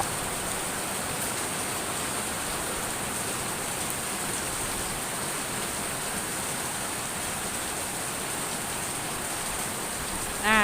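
Heavy rain pouring steadily, a dense, even hiss of water drumming on surfaces throughout, with no voices.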